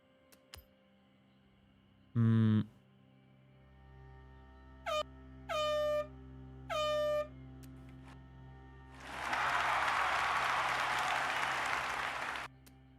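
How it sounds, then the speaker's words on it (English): A synthetic air horn blares in short bursts in the Forza Horizon 6 racing game: one low blast, then three brief higher honks. A few seconds of loud, steady applause follow. "New air horn and applause."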